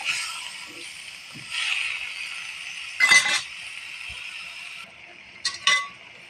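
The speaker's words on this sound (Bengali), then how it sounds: "এখন আমি আমার পটল আর সবজিগুলো ঢেলে দিলাম। একটু নাড়াচাড়া দেব।" Pointed gourd and mixed vegetables are stirred in a cooking pan over a steady frying sizzle, with a few sharp metallic scrapes and clinks of the spoon against the pan.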